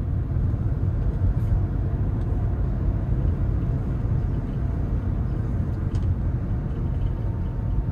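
A car pulls away and accelerates during a driving lesson on city streets, a steady low engine and road rumble running close and even throughout with no talk.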